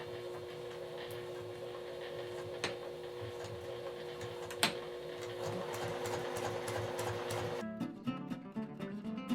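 A sewing machine runs a steady, even whirring hum while top stitching a drawstring fabric bag, with a couple of faint ticks, then stops near the end leaving a few light mechanical clicks.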